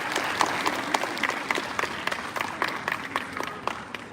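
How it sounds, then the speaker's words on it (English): Students and teachers at a school celebration at St Joseph's Cuttack break into applause, a dense, steady patter of many hands clapping at moderate distance, with no talk. "A big round of applause."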